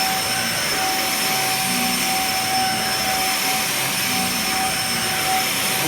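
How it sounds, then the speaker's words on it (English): A repaired Dyson DC50 vacuum cleaner runs on carpet with a loud, unbroken whooshing whine that holds steady throughout. "it's certainly got suction now. It seems to suck onto the carpet."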